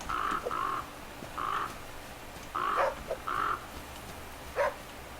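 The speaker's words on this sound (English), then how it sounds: "Hey, where's that other crow?" Crow cawing in the survival video game The Flame in the Flood, several harsh calls in short bursts spaced irregularly, moderately loud with a quiet ambient backdrop.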